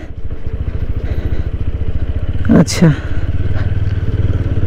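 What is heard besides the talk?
motorcycle engine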